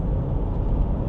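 Old, cheap Land Rover engine droning steadily while driving, a coarse, tractor-like low rumble with road noise, continuous and fairly loud throughout.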